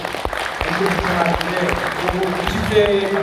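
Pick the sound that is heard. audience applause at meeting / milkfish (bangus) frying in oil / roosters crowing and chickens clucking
audience applause at meeting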